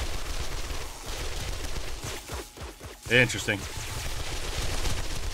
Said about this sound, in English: And both dart traps are going. Oh, just it's loud, but it sounds really cool.